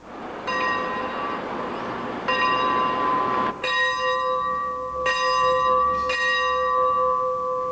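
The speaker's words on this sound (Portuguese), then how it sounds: "Hoje, o toque deste sino regula as atividades aqui" A bell at a former convent, now a recovery treatment centre, rings in several loud, clear metallic strikes with long ringing decay, close and without talk.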